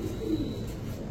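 A giribaz high-flyer pigeon coos in a soft, low, steady murmur that runs through about a second, close and alone with no talk.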